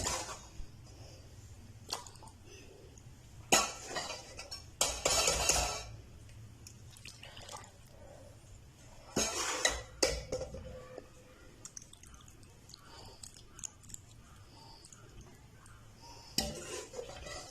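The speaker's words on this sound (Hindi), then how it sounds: "यहाँ पे हम चूल्हा बंद कर देंगे और इसे डिश आउट कर लेंगे।" Rajma curry of red kidney beans is served from a cooking pot into a dish, giving scattered clinks and scrapes of a utensil against metal with soft wet plops between quieter stretches.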